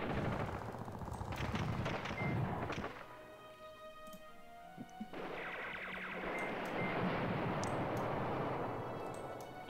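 Artillery and small-arms fire in the WWII strategy game Command Ops 2, set around Caen on 6 June 1944: dense rattling bursts and thuds, then a brief lull with scattered sharp cracks before a second heavy barrage.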